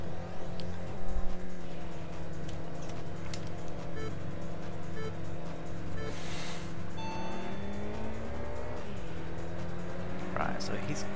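A Porsche 996 race car in the video game Import Tuner Challenge: a loud, continuous engine drone that holds steady, then shifts pitch as gears change, with brief tire and collision noises.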